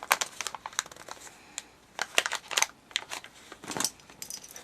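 The edges of a paper gift bag being folded in: crisp paper crinkles and sharp creasing snaps come in irregular bursts close to the microphone, with short pauses between them.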